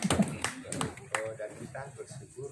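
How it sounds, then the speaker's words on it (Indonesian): An audience claps at a retirement ceremony for teachers at a Medan high school, a short burst of applause that begins under a speaker's voice. "Tepuk tangan dulu lah."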